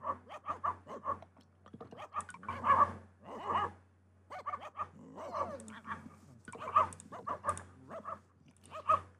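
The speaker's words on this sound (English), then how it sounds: "Oh, someone is growling." Dogs in the Petz 4 video game growling and barking in short repeated bursts, with panting and whimpers between them, clear and alone over a low steady hum.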